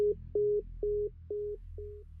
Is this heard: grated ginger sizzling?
no